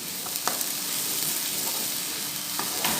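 Whole cloves, cinnamon and black cardamom sizzle softly in hot oil in a pot, a steady close frying hiss with a few small pops and spoon stirs.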